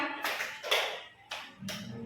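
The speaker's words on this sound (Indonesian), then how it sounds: "Ke kanan, tepuk satu. Tepuk dua." A small group claps in unison during a hand-clapping game, four sharp, separate claps spaced irregularly, close and fairly loud with quiet gaps between.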